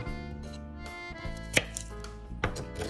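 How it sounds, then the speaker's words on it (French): A knife cuts shallot and garlic cloves on a board, a few sparse, sharp taps against a low background hum. "Je vais couper l'échalote en 2, ainsi que les 2 gousses d'ail"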